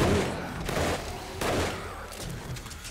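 Automated gun turrets in the 7 Days to Die video game fire steady rapid bursts during a blood moon night, forming a dense crackling fusillade with a few louder surges, heard without speech.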